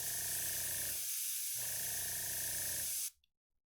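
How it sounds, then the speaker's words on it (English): Close up, an airbrush sprays paint onto a miniature in two hissing bursts, the first short and the second longer, separated by a brief pause before the air cuts off. "this isn't the best airbrush"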